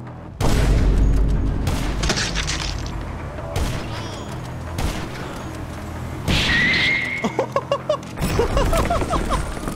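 A motorbike blows up in GTA Online amid several heavy explosions and bursts of gunfire-like booms, loud and close, separated by brief gaps with some mechanical clatter.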